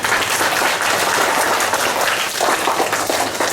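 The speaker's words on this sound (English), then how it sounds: "Let's give her thunderous applause." Audience applause at a school declamation competition, a dense steady wash of many hands clapping close and loud for the full length, without pause.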